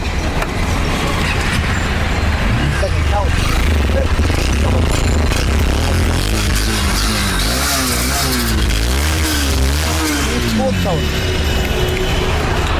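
A new Honda Hornet 2.0 motorcycle engine running nearby, a steady low rumble with rising and falling revs in the middle, under someone talking.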